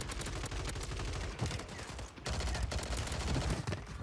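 Rapid, dense gunfire in the Call of Duty Warzone video game on Rebirth Island: sustained bursts of loud automatic fire from several sources, almost without a break, with brief pauses.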